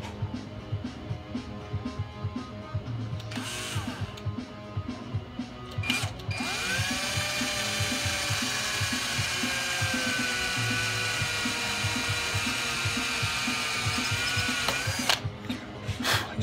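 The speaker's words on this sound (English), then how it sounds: "I think I'm just gonna make two holes instead of making that one bigger." A drill bores slowly through stainless steel pipe, its high grinding whine rising around six seconds and holding steady for roughly nine seconds, close and loud over a continuous low rhythmic rumble.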